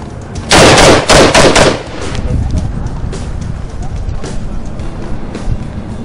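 A Gilboa assault rifle fires a quick burst of several loud, sharp shots close by, then the reports give way to a steady outdoor background hum.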